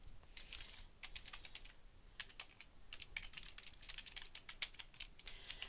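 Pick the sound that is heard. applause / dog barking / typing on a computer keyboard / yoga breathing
typing on a computer keyboard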